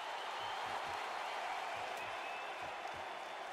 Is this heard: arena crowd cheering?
yes